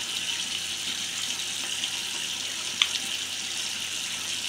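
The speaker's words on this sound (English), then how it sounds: "I have my hot water running." Hot water running steadily from a tap into a sink, a continuous close hiss with one small splash or clink partway through and no talking.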